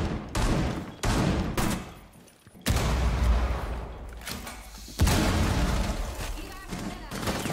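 Rapid bursts of gunfire and heavy impacts from a Rainbow Six Siege ranked match, loud and repeated in clusters, with a voice speaking over parts of the fighting.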